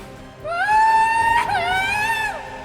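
A woman's long, high-pitched scream heard over a mobile phone rises and wavers, loud and sharp, breaking briefly midway before trailing off.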